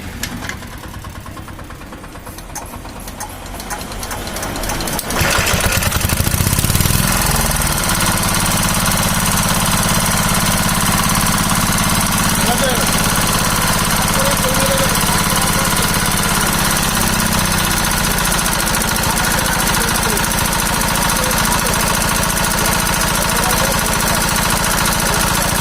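A damaged pump set engine is cranked with a few uneven bursts, then catches and settles into a loud, steady running drone with a knocking rhythm that lasts to the end.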